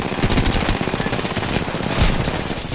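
Continuous automatic gunfire in the video game Apex Legends, a dense, loud stream of rapid shots with no pauses, close and alone.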